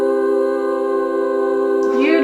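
Full stack of layered vocal harmonies with an added seventh and octave on top, sustained as one rich held chord for about two seconds, alone and fairly loud, with a slight breathy swell near the end.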